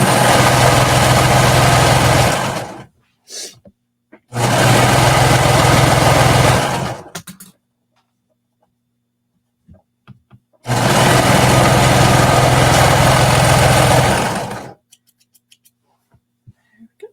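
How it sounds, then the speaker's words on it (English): A sewing machine stitches a knit skater dress seam at a 1/4 inch allowance, running loud and steady in two long bursts with short pauses between, the motor's drone clear and alone, ending in quiet. "We're just going to sew to attach that back"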